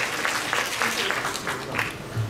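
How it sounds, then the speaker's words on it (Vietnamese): Audience clapping for a stage performance at a comedy-music show, a moderate patter of applause with uneven bursts, and voices talking over it. "vỗ tay cho tiết mục lần đầu tiên có mặt tại Việt Nam"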